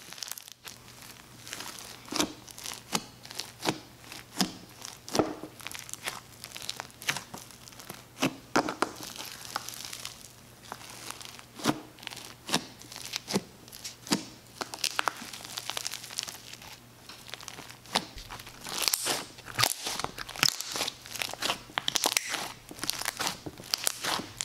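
Crunchy slime packed with foam beads is squished and kneaded, giving dense, continuous crackling and popping crunches in irregular bursts, close and crisp with no talking.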